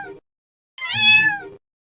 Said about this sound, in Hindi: इस बिल्ली के बच्चे को तो बहुत चोट लगी है